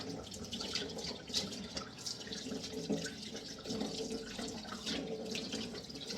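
Water runs from a tap with splashing and sloshing as something is rinsed underneath, uneven and close by, no talking.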